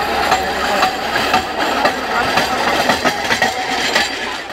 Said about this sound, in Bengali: দেখুন এই মুহূর্তে যে টাওয়ার ভ্যান, সেই টাওয়ার ভ্যানটি চলে আসছে, নসিপুর রেলওয়ে ব্রিজ কভার করছে।